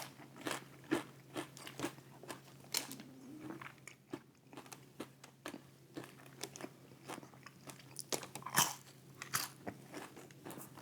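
Crunchy Subway fries being chewed up close, with repeated sharp bites and crackling crunches in an irregular rhythm over a faint steady hum, no talking.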